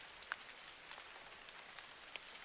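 Rain falls steadily, a soft even hiss of drops with a few faint sharper patters standing out, quiet and unbroken, with no voices.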